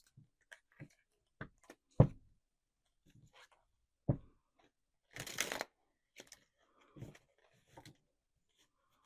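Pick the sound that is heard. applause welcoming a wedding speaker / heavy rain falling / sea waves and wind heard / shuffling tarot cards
shuffling tarot cards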